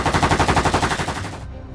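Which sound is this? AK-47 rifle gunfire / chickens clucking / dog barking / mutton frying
AK-47 rifle gunfire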